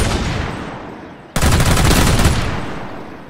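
Gunfire in MTA: DayZ, a multiplayer zombie survival game, breaks out suddenly midway as a loud, dense burst of rapid shots, following a stretch of steady background noise.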